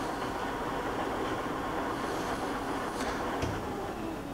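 A Deckel universal horizontal/vertical milling machine runs at 500 RPM, producing a steady, continuous mechanical hum and whir at moderate loudness with no break, plus a faint click near the end.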